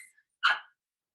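A single sharp dog bark inside a home, loud and close, coming after a faint high squeal, then silence.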